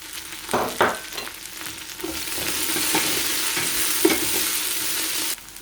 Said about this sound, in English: we need to stir for another 3 to 5 minutes